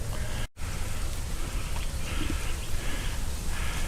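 Rain falls steadily outside a 2014 Tiffin Allegro Bus 37AP Class A motorhome, a dense, continuous hiss of drops on surfaces with one brief dropout near the start.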